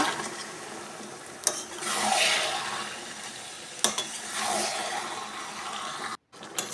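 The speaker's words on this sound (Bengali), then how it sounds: "মশলার মধ্যেই আমি মাংসগুলো ছেড়ে দেবো এবার আমি ভালো করে নেড়ে নেব" Chicken pieces stirred and fried in spice masala, a hissing sizzle that swells and fades with a couple of sharp spatula knocks against the pan.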